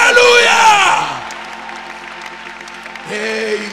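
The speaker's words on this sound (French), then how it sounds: "donnez à Dieu une acclamation appropriée à son niveau" A church congregation at a Thursday worship service cheers and applauds, with loud whoops and shouting voices at first, then fading into a softer, continuing roar before voices swell again.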